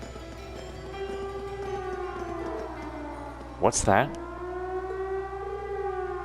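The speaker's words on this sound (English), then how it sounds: "It sounds like a siren." Siren wailing from a fort in a video game, a long steady rising and falling tone over game audio, with a brief louder burst midway and a voice speaking.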